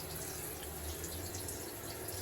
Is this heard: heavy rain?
no